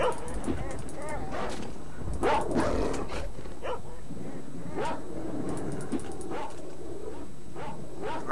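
Dog barks and whimpers from the game S.T.A.L.K.E.R.: Shadow of Chernobyl come in repeated short bursts amid gunfire-like impacts and game noise, with someone talking over them.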